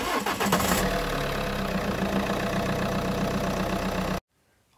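Car engine on a healthy battery cranks briefly and fires, then settles into a steady, close idle for a few seconds before cutting off abruptly into near silence; no talking.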